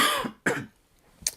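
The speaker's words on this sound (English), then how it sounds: "Sorry, I got a bit of a cough." Two sharp, close coughs in quick succession, followed after a short pause by a softer third cough or throat clear, with no speech.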